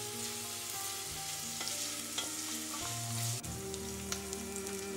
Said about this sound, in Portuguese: A cebola refoga até ficar translúcida